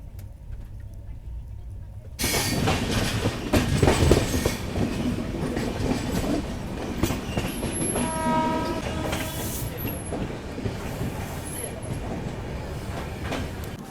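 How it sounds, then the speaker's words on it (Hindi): Kalindi Express arriving at Gauriganj railway station in India, a loud rumbling pass of wagons with clattering wheels and brief horn blasts, heard close and continuous after a quiet start, with a voice talking briefly. "यहाँ हमारी ट्रेन पहुँच चुकी है गौरसहायगंज रेलवे स्टेशन"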